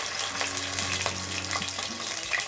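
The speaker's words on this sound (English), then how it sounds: "Then add 1 tablespoon of ginger paste, 1 tablespoon garlic paste," Ginger and garlic paste sautéing with black peppercorns in a pan, a steady close sizzle with a few soft stirring sounds and faint music underneath.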